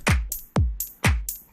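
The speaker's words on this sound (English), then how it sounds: "we're going to layer in 3 hi-hats" Layered electronic hi-hats, three stacked together in a percussion production, tick and hiss in a steady repeating pattern over deep, booming drum thuds, loud and dry.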